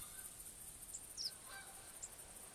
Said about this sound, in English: I hear geese.